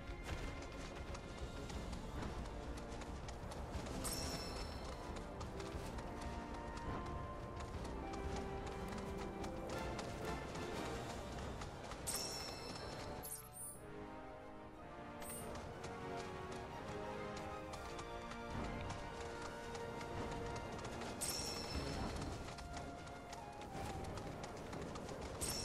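A chocobo runs in Final Fantasy VII Rebirth, its rapid clip-clop footsteps pounding steadily under loud game music, with a brief lull midway.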